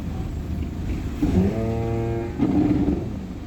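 A car's brakes shudder as it nears a stop, an ABS fault felt through the pedal: a loud, close low rumbling vibration with tonal harmonic buzzing in two bursts over steady road noise.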